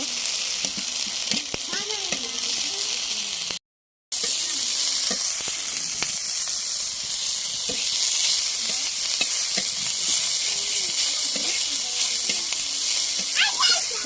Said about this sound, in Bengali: সেই প্যানে এই মাছটা ভেজে নেব লাল লাল করে ভেজে নেব